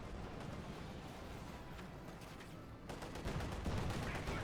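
Tank cannon fire and shell hits in a Company of Heroes 2 battle between a Panzer IV and a T-34, rolling dense bursts that build louder toward the end over a steady low battlefield rumble.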